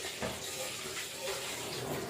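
Tap water runs steadily in a kitchen while chopped chillies are washed, a continuous hissing splash at low level with slight shifts as the stream hits the chillies, no talk over it.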